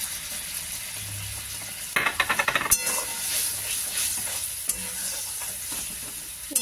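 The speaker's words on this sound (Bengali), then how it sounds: "এবারে এই কাজু বাদাম আর পোস্ত বাটাটা এতে দিয়ে দিচ্ছি।" Cashew and poppy seed paste going into a hot pan sets off a steady sizzle, with a burst of rapid stirring scrapes and clatter partway through.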